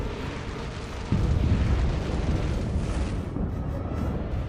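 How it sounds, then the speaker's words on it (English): The towers of the Red Keep explode in a massive, roaring blast that swells into a dense, sustained rumble of collapsing stone and fire, loud and continuous with no voices. "top of the Red Keep explodes."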